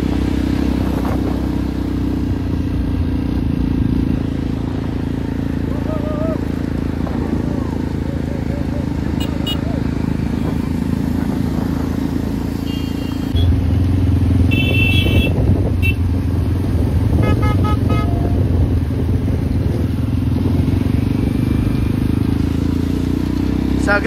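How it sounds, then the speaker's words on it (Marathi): Cars and motorcycles gathering at a village birthday celebration during a palkhi festival, their engines a constant low rumble that swells midway, with people talking over it throughout. "हे बघा अजून गाड्या येत आहेत"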